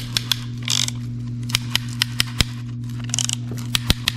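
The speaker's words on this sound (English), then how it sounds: "You want to kind of put that on there and tighten it up for me." Sharp metallic ratcheting clicks from a clamp being tightened onto an engine, arriving in irregular bursts and single snaps over a steady low mechanical hum, close and fairly loud.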